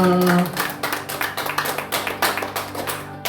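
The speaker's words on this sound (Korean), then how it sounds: "하나님께 영광의 박수 올려드리겠습니다." A church congregation at a Wednesday prayer service claps together in sustained, dense applause with a steady rhythm, while a held musical tone fades out at the start.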